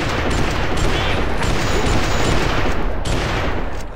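Gunfire in the video game GUN, a constant dense barrage of overlapping shots and blasts from several weapons, loud throughout with a few sharper cracks standing out.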